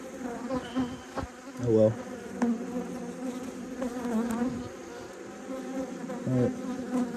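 Honeybees buzzing during a hive inspection, a steady close drone with individual bees zipping past the microphone, while a person briefly speaks.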